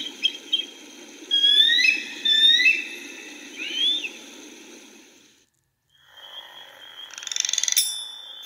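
Frogs croaking outdoors in a wildlife setting, a series of short rising and warbling calls over a steady low background chorus, followed by a pause and then a brighter high burst of calls.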